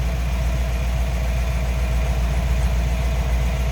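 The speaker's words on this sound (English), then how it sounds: "What you'd expect, 272 Ford V8, dual exhaust." A 1955 Ford Crown Victoria Skyliner with a 272 V8 and dual exhaust idles from behind the car, a deep, steady, loping rumble that holds even and loud throughout with no speech.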